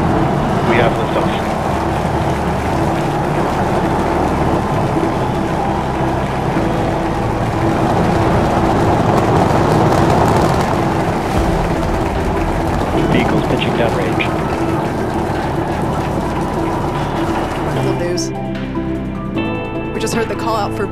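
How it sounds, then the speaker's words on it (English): Liftoff of a SpaceX Starship rocket during a booster-catch test flight: a loud, continuous, crackling engine roar that rumbles steadily for about twenty seconds, with harsher crackle toward the end. "We have liftoff."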